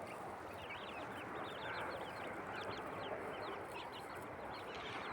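Brahma chickens and chicks foraging together in a yard, with busy, overlapping high cheeps and soft clucks at low level, continuous and close.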